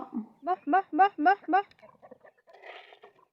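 Domestic hens kept at home clucking: a quick run of five or six close, loud clucks, then softer scattered clucks and faint chatter.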